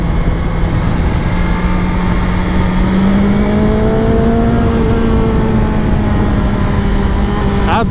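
A BMW S 1000 XR motorcycle engine revving high in the 5,000 to 6,000 RPM range, a loud sustained whine that climbs steadily in pitch, close and continuous with no talk.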